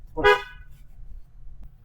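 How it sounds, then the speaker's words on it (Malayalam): A single short car horn honk sounds during a driving lesson on a narrow road lined with overgrown grass, followed by quiet engine and road noise. "ഒന്ന് ഹോൺ അടിച്ചിട്ട്"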